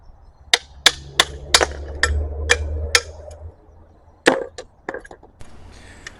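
A hammer strikes hardware off a rear brake bracket of a 2016 Mazda CX-5 with a series of sharp, loud blows at an uneven pace, with a few quieter taps between them.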